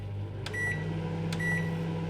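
Microwave oven running, a steady low hum under two bright beeps spaced about a second apart, close and moderately loud.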